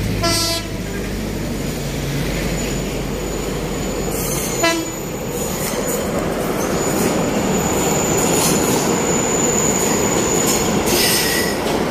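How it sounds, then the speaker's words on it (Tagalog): A long train rolls past on a railway beside a lengthy bridge, loud and close, its steady wheel rumble and squeal filling the scene while brief horn blasts sound near the start and again around the middle. "kakatraan lang ng train"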